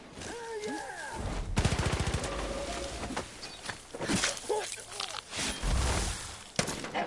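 Gunfire in Far Cry New Dawn as enemies shoot at New Eden fighters: rapid bursts and scattered shots, loud and close, with someone talking over the action.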